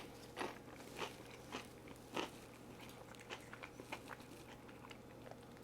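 Someone biting into a crunchy cracker topped with crab dip, then chewing: a string of sharp, close crunches spaced about half a second apart, faint and quiet, with no talking.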